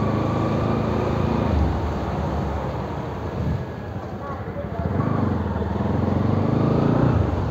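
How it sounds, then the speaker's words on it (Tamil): Bajaj Pulsar NS200 BS4 motorcycle running, a dense, rough exhaust rumble with wind noise, loud and continuous, swelling slightly toward the end. "வண்டி எக்ஸாஸ்ட் நோட்டு வேறு லெவலில் இருக்குது."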